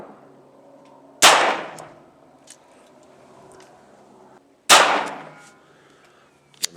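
Two sharp, loud pistol cracks from a Phoenix Arms HP-22 firing Remington 550 ammunition, spaced a few seconds apart, each with a short decaying tail over a quiet background and faint handling noises between.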